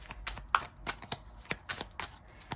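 Tarot cards being shuffled by hand, a series of quick crisp riffling bursts in an uneven rhythm, close and fairly quiet, with a faint breeze in the background.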